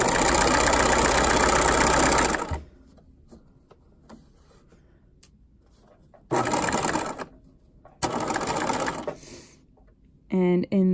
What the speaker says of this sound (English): I'm starting at the top and sewing all around all 3 sides of the bag.